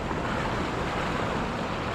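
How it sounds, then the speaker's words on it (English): Ocean waves breaking on a rocky shore make a steady, loud, broadband wash of surf with rushing water and wind. The roar is continuous and close, and no voices are heard. "Here's another wave coming."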